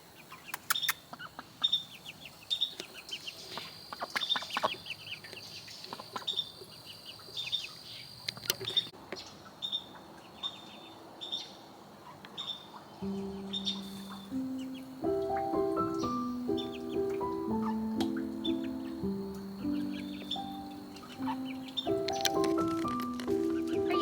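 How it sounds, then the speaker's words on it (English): Farm chickens clucking and calling at close range, with bird chirps throughout; from about halfway a melodic musical backing joins and carries on beneath the fowl sounds. "The chickens look so much bigger."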